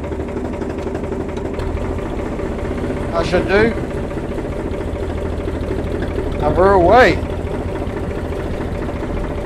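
A large three-cylinder 351 cubic inch tractor engine runs at a steady low chugging idle, with someone speaking briefly over it twice and a slight rev as it moves off.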